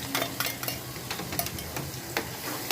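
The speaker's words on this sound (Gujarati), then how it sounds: "લસણ કકડું થાય ને ત્યાં સુધી તળવા દેવાનું." Garlic fries in oil with asafoetida for garlic chutney, soft sizzling under repeated close scraping and stirring clinks of a spoon against the pan.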